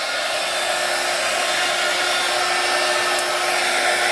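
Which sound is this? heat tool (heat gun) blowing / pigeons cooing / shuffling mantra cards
heat tool (heat gun) blowing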